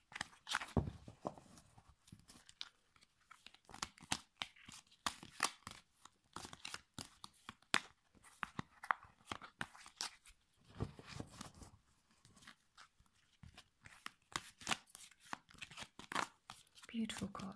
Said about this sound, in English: everyone loves the sounds of shuffling cards